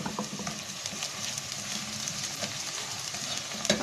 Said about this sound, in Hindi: और प्याज को करेंगे हम लाइट गोल्डन ब्राउन फ्राई